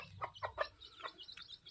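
A small-breed hen brooding eggs and chicks gives a few short, close clucks in quick succession, then softer trailing calls in a quiet setting.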